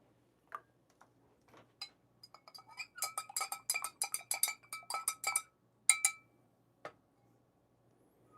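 A stir stick taps and clinks against the inside of a coffee cup, a few scattered knocks and then a quick, busy run of light clicks. It is close and clear, with no talking.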